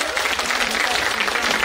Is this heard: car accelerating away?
no